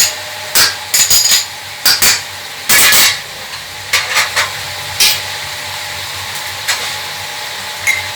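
Yogurt and green chili paste cook in a pan for chicken pulao, a soft steady sizzle punctuated by repeated sharp clanks of a spoon against the pan, loud and close.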